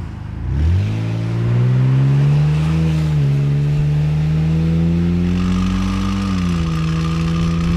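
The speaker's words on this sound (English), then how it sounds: "we're getting a bit of noise back there from, I think, the drive shaft" A BMW E46 325xi on the move with a suspected worn drive shaft, its engine note climbing steadily and holding a loud, continuous drone with a faint added whine, no talking.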